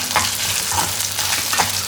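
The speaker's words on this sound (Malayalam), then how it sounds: "ഇത്ര ഒന്ന് വഴറ്റിയെടുക്കാം." Shallots, garlic and red chillies sauté in sesame oil, a steady close sizzle with soft stirring scrapes every half second or so, no voices.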